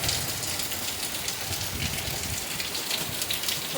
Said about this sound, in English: so I can get out of the rain